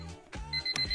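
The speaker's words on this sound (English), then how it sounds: "What if your alarm clock didn't sound like this," An alarm clock rings in a short, close, insistent burst of electronic beeping that lasts about a second.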